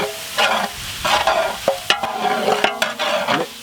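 Ground chilli and coriander spices being stirred in a frying pan for a village-style snail gravy, with steady sizzling broken by repeated scraping strokes of the spoon against the pan, close and fairly loud, no talking.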